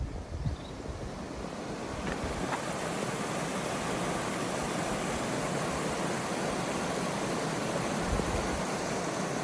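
Creek water at Jennings Creek on the Appalachian Trail rushes in a steady, broadband wash that stays fairly loud and unchanging throughout, with no voices.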